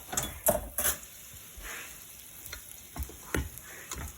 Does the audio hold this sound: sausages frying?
yes